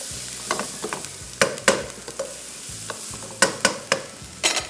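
Garlic fries in a pan over high heat with onions, close stirring and scraping clatters popping out in irregular bursts above a steady low sizzle.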